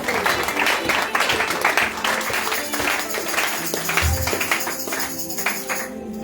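Church congregation applauding and cheering, dense rhythmic clapping mixed with voices and shouts, loud and sustained, easing off toward the end.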